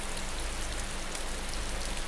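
Steady, dense rain pours down in the DayZ game world as darkness falls, a loud unbroken hiss of falling drops filling the whole stretch with no voices.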